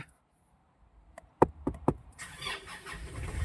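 A 2020 Nissan Navara 2.5E Black Edition pickup started by push button with the brake pressed: a few sharp clicks and knocks, then the engine catches and settles into a steady close idle.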